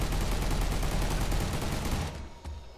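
Enemy gunfire in the Furry Apocalypse demo video game pours out as a loud, continuous volley of rapid shots for about two seconds, then drops away, leaving one isolated shot near the end.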